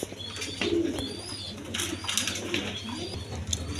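A pair of high-flying Giribaz pigeons coo close by in repeated soft, throaty bursts, with a few thin chirps and background hum.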